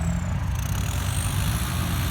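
A Kubota L5018 tractor's diesel engine, freshly fitted with twin turbos, runs steadily nearby at a loud, even idle-like drone with a faint high whine above it.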